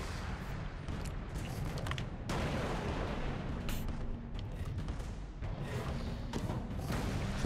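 Crab cannon blasting repeatedly during a ship minigame in the video game Alice: Madness Returns, a dense run of loud booming shots and thuds with little pause, close and heavy throughout.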